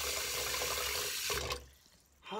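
Bath water running steadily from a tap into a tub with bath salts, a continuous close hiss and splash that cuts off briefly before gushing again.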